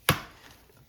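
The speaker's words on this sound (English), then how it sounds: "Now I've got Mikey's going to crack 1 egg" One egg cracks sharply against the rim of a mixing bowl, a single crisp close tap that fades quickly, with no other sound.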